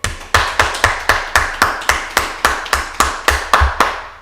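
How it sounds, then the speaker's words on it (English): A group claps in unison, about fourteen sharp, evenly spaced claps in a steady rhythm. The claps are loud and close, with no talking over them. "All right, let's clap it up."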